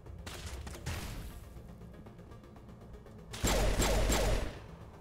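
Gunfire in Mass Effect Legendary Edition: bursts of rapid automatic shots with mechanical clatter, a short burst early and a louder, denser burst near the end.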